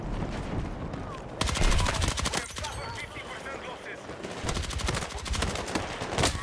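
Automatic gunfire in Battlefield 6, with rapid rhythmic bursts of shots firing close and loud, broken by short pauses and mixed with battle noise.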